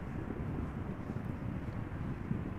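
KLM Embraer 190 airliner arriving at Amsterdam Schiphol in gusty crosswinds, a faint distant jet roar mixed with rumbling wind buffeting the microphone.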